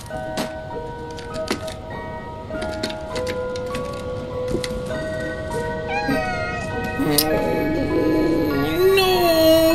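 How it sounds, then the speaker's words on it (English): Soft, small meows from a cat in the video game Stray rise over a bed of electronic game music with chiming tones and beeps, growing a little louder toward the end. "The little meow is gonna break my heart!"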